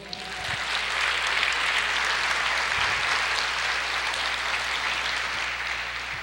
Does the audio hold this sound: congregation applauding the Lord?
yes